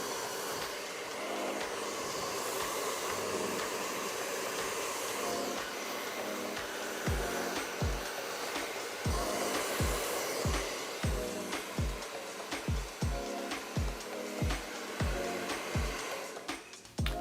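A far infrared hair dryer blowing hair dry, a loud, continuous close whoosh that runs throughout, with a series of rhythmic low thumps in the second half as the airflow shifts against the hair.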